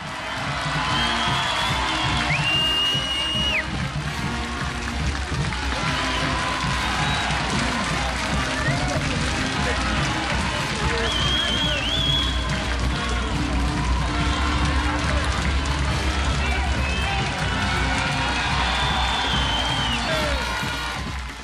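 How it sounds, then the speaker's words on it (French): A roadside crowd at the Tour de France in Lavelanet, applauding and cheering steadily as riders pass, with whistles and shouts rising over continuous close clapping. "Le maillot jaune est lui aussi très applaudi."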